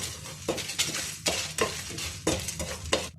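Kashmiri and hot dried chillies dry roasting in a pan, heard as close, busy rattling and scraping from repeated stirring with a utensil, steady and alone without talk.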